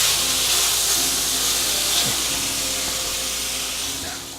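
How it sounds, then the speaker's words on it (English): Strips of beef for pepper steak cook with vegetables in a wok over medium heat, giving a loud, continuous sizzle and hiss close by that eases slightly toward the end. "Now the meat goes back in the wok with the vegetables, and we cook that just a little bit longer until the meat's fully cooked."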